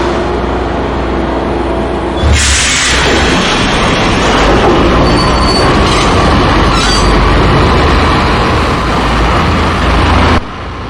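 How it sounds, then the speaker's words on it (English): A train in the video game Max Payne rumbles loudly and continuously, with rattling wheels and metallic squeals rising over the steady roar before it cuts off near the end. "The train lit up like a Christmas tree."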